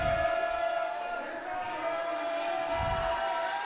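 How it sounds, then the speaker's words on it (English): Parents and fans at a junior roller derby championship game keep up a steady crowd roar of cheering and shouting, with a sustained whistle-like tone and thumps coming through the din. "There's a lot of screaming going on over there."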